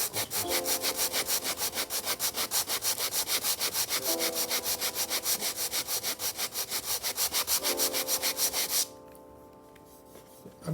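Hardened bond on a repair is sanded with quick, regular back-and-forth rasping strokes, loud and close, about four per second, before the rubbing abruptly stops and leaves near silence.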